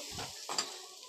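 Masala with dry red chilli sizzling in a pan as it is stir-fried for a Bengali rohu fish roe dish, two short bursts of frying hiss with a light scrape of stirring, quiet and close with no talk.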